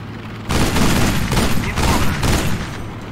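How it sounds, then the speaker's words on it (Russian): A powerful shotgun fires in the video game Sniper Ghost Warrior, a loud, close burst of heavy blasts following in quick succession after a short quiet start. "Что у меня за то ли дробовик какой-то мощный, то ли что?"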